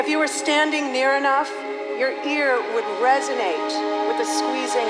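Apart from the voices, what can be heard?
No everyday noise stands out behind the speech.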